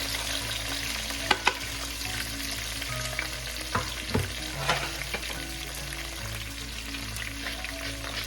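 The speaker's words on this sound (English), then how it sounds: "we can now put our sofrito here, pork ginisa, our garlic, onions, and tomatoes" Garlic, onions and tomatoes sautéing with pork in a hot pan for pork menudo, a loud continuous sizzle with scattered sharp crackles and spoon scrapes as the mix is stirred, with no voices.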